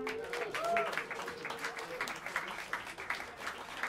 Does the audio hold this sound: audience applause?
yes